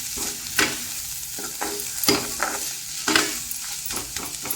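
Masala and onion are stir-fried in oil in a pan, with a continuous close sizzle broken by repeated scraping strokes of a spoon at an uneven rhythm, and no voices.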